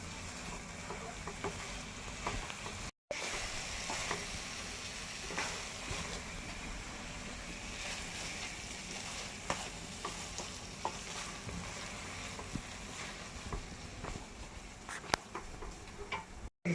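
A carrot mixture being sautéed in a pan for a sweet carrot fudge, giving a continuous soft sizzle with steady scraping and stirring clicks of a spoon against the pan.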